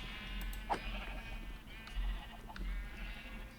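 Sheep bleating in the Minecraft video game, a couple of short distinct bleats over a steady low hum, close and clear with no talking.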